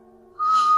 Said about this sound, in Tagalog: Sumisipol siya habang papalapit sa akin.